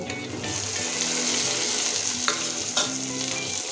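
Fried potato pieces go into a hot pan with ginger, garlic and onion for a Bengali rohu fish curry, setting off a loud, continuous close sizzle with a couple of brief clattering stirs.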